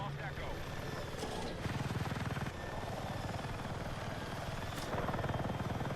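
A video game helicopter flies steadily with a continuous rotor thrum and whine. It holds close and fairly constant, with slight surges of throbbing chop.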